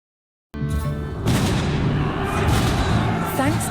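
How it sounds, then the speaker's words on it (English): Cannon fire in the video game Age of Empires 4 during a French siege against the English, heard as loud booming blasts over a dense battle din with music, continuous and heavy throughout. "Thanks to the explosive force of cannon fire, the French were close to victory in this century-long war."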